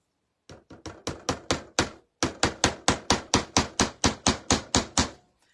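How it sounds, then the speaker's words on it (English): A hammer taps a nail in a steady rhythm: a few light hits, a short pause, then about fifteen firm, evenly spaced strikes up close. "I got me a nail and I got me a hammer and I'm just going to tap, tap, tap it."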